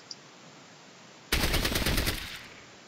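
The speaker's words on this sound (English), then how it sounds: "Robin, burst fire this one." Burst-fire gunshots in the video game Fallout Tactics: after a quiet stretch, a loud rapid volley of automatic shots rattles for about a second before fading out.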